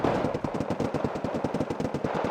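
Three vehicle-mounted machine guns in the real-time strategy game Wargame: Red Dragon fire in a long continuous stream, a rapid, steady rattle of closely spaced shots, loud and alone without talk.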